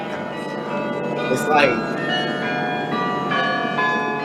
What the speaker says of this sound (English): can y'all hear that? The bell is saying,